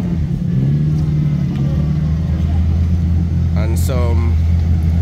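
A Toyota Corolla with a 2ZZ-GE four-cylinder engine drones low and steady at a drag strip, with a brief rising whine near the end; a voice talks over it.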